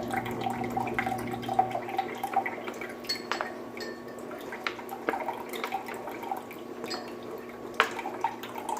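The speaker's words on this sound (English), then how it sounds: "As you're squeezing, it's filtering through the Sawyer Mini." Collected rainwater is squeezed through a Sawyer Mini filter into a container, making a close, steady trickle with small drips and occasional glassy clinks, quiet and continuous with no talking.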